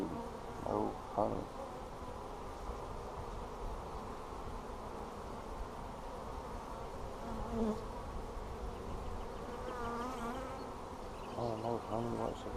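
Honey bees buzz steadily around an open hive in a bee yard during splits, with a dense continuous drone and louder passes of individual bees close by, while people talk quietly now and then.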